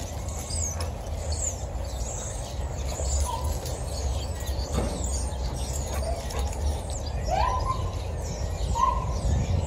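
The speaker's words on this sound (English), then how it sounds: "Birds are chirping." Outdoor birdsong on a sunny, snowy day: scattered high chirps and short calls, mostly faint to moderate and mixed with a steady wash of ambient noise, with no talking.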